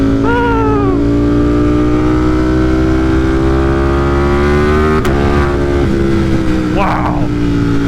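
A tuned motorcycle accelerating hard in fourth gear screams loudly and steadily, its engine pitch climbing throughout, with a brief sharp break near the end as a voice shouts over it.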